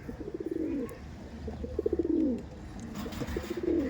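Madras pigeons coo inside a loft in a few repeated throaty, rolling bursts, close by and moderately loud against a quiet background.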